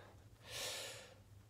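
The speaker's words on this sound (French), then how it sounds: "Je suis déjà essoufflé" A single heavy, breathy exhale during a taekwondo warm-up, close and quiet, swelling and then fading over about a second against faint background noise.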